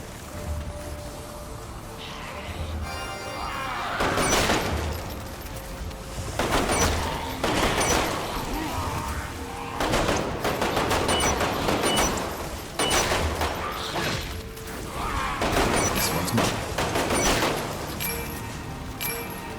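Video game gunfire from a Resident Evil game comes in repeated loud bursts of shots, each cluster separated by brief pauses, over a busy ambient game soundtrack.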